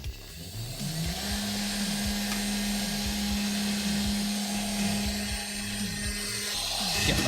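CNC mill spindle running during a spindle test, a steady high whine at constant pitch that starts up within the first second, holds for several seconds, then cuts out, with repeated short clicking pulses beneath.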